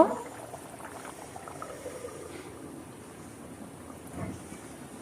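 Shing (stinging catfish) curry with sliced green chillies simmers in a covered pan, giving a steady low bubbling and gentle sizzle that runs close and continuous throughout, with a slight swell near the end.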